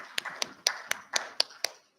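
Audience at the IIMS India Conference 2025 applauding prize winners, sparse claps in a quiet hall, about seven distinct hand claps in a loose, slow rhythm.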